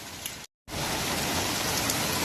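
Heavy rain pours in a steady, dense, loud hiss close by, heard alone, after a short break of silence near the start.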